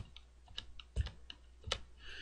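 Quiet, close typing on a computer keyboard, a handful of separate key taps and one firmer press spread over a couple of seconds while entering a cell reference in a spreadsheet.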